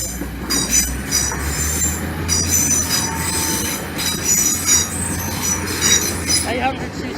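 A ten-carriage Class 800 passenger train runs past on the East Coast Main Line diversion route via Lincoln, its wheels squealing loudly and continuously close by over a rumbling rail roar.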